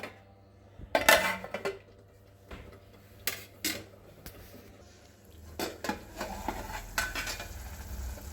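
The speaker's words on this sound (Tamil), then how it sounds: "ஒரு பிளேட் போட்டு ஒரு 2 மினிட்ஸ் சிம்மில் வச்சு மூடி வைக்கணும்" A pan of mushroom gravy on the stove, covered with a plate, gives a few sharp metal clinks and clatters between quiet stretches, then a soft bubbling simmer, close and fairly faint.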